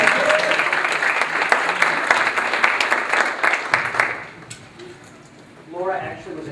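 An audience applauds for Laura Hodgson, a Georgia Tech graduate, at a live business talk event, steady clapping for about four seconds before it fades, leaving faint voices and a brief murmur of talk at the end.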